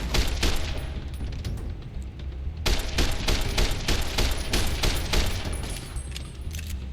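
Service rifle gunfire in the video game Fallout New Vegas: rapid bursts of loud, sharp shots crack out in quick succession, with a short lull and then another dense volley.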